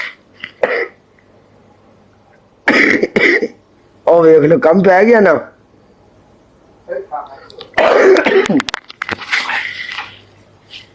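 Several sharp coughing bursts break up a person talking nearby, coming in short separate fits.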